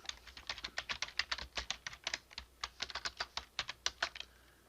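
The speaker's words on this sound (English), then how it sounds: "So I'm just going to type in kitchen towels." Fingers tapping a computer keyboard in a quick, even burst of light clicks, close and quiet, with no talking.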